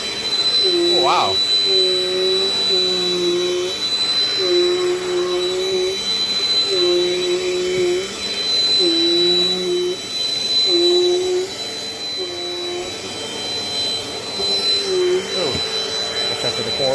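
A Dirt Devil Dynamite Plus vacuum cleaner runs continuously on an indoor floor, a loud steady whine whose pitch wavers rhythmically as it is pushed back and forth.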